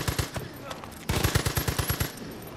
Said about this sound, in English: I can't walk 2 steps without getting shot